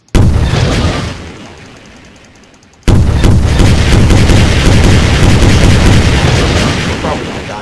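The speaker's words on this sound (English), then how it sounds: "First rocket's off." A rocket fires with a loud boom in Garry's Mod with a nuclear warfare mod, and the heavy rumble decays before a second, sudden blast hits and keeps roaring as a long, dense explosion.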